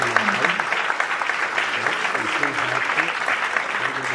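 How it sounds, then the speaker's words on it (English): An audience at a literary festival discussion event claps steadily, a dense, sustained round of applause from a crowd heard close and fairly loud throughout. "So Manoj and Geeta, let's give them another round of applause."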